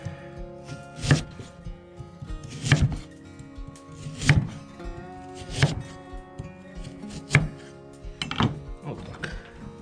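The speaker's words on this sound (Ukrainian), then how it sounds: "Далі нарізаємо моркву. Морку нарізаємо досить крупно." Carrots chopped coarsely with a knife on a board, about six loud, heavy thunks spaced roughly a second and a half apart, each followed by brief rattling, close by with a voice talking between cuts.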